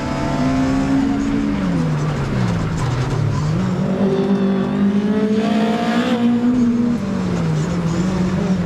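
Lada VFTS race car with a Honda engine revving hard, pitch climbing and falling through repeated throttle blips and gear changes, loud and close with a raspy exhaust, no talking.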